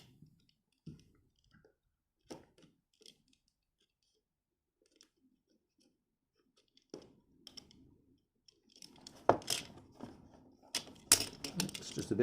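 Star Wars Black Series figure packaging being opened: scattered close plastic clicks and crinkles with long quiet gaps, building into denser tearing and rustling in the last few seconds, with no talk.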